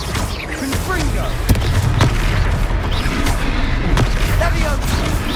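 Confringo blasting spell explosions in Hogwarts Legacy, a dense, steady barrage of booming impacts and bursts under continuous battle noise, with voices talking over the fight.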